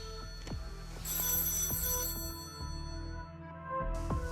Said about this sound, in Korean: 그러던 2013년 5월의 어느 날 한 통의 신고 전화가 걸려옵니다.